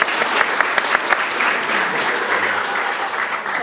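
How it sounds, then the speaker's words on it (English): Steady audience applause at a science-sector plenary, a dense wash of many hands clapping at full strength throughout, with no voices on top. "another round of applause for Amber."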